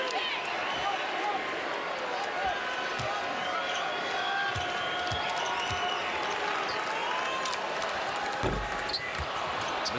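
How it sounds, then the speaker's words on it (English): A home crowd at an NBA game, Dallas Mavericks against Denver Nuggets, fills the arena with a dense, steady roar and chanting while sneakers squeak and a ball bounces, with commentators talking over it. "the 2-time MVP hearing chants from the home crowd"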